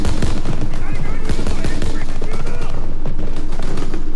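Dense, loud gunfire fills Call of Duty: WWII, a continuous rattle of rapid shots and booms close by with no gaps, while a voice speaks over the battle noise.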